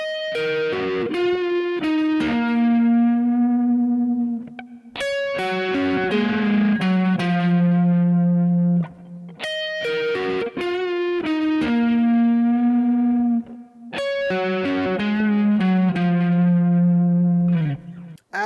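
Distorted electric guitar plays a section of a song with effects and a little string bend, loud and sustained in repeating phrases of plucked notes ringing out, alone with no talk.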